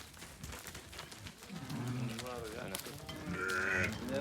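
A flock of sheep and well-grown lambs on a farm, with several wavering bleats rising mid-clip and a higher cry near the end, set over a voice and background movement.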